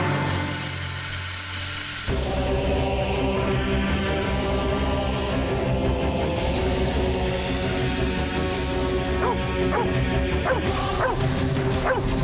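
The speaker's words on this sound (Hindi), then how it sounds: "अब हमें देखकर भौंक रहा है।" A dog barks repeatedly at people in a home scene, with a dense musical score and background sounds running beneath the sharp yips.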